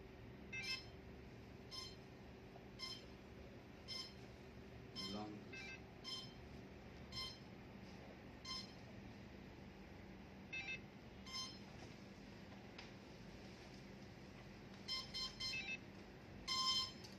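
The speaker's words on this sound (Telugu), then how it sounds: "వచ్చిందా లాంగ్ బీప్, అది వస్తే ఓకే అనేటండి" An F450 drone's ESC emits quiet electronic beeps during calibration: short tones repeat at irregular intervals over a faint steady hum, with no talking.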